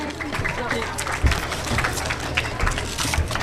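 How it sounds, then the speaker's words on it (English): Applause for a student winning a school English speech competition: a crowd claps continuously and fairly loudly in dense, irregular patter, with some speech mixed in. "Do loud clap for Zia Muhayuddin"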